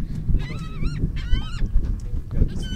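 A flock of birds on an island honks in repeated, goose-like calls, several overlapping at close range over a rumbling wind and background noise.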